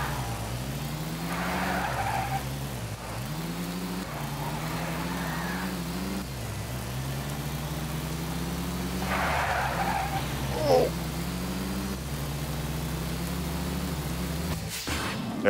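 A car is driven in the video game Tony Hawk's Underground, its engine droning steadily for about fifteen seconds with repeated tire skids and squeals, ending in a sudden crash-like burst; no one speaks.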